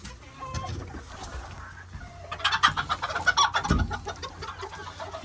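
Farmyard hens and roosters of the OEGB breed cluck and chatter up close, quiet at first then swelling into a busy, overlapping burst of clucks and calls with a few thumps.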